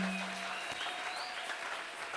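A church congregation applauding and acclaiming during a revival service, a dense wash of clapping with crowd noise, steady and moderately distant for about two seconds.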